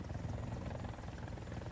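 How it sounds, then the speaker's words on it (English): A helicopter in the War Thunder video game gives a steady, rapid rotor thump over a continuous engine drone, fairly quiet and unbroken, with no talking. "A simple grain of sand destroys a helicopter."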